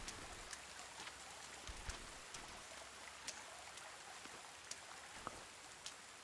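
Rain in the survival game The Forest, a soft, steady patter and trickle of falling water with scattered louder drops, faint and continuous with no talking.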